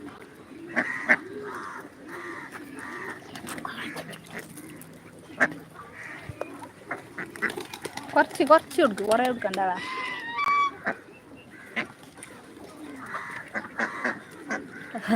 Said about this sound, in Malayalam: താറാവ് ഇല തിന്നുന്നുണ്ട് വാഴന്റെ ഇല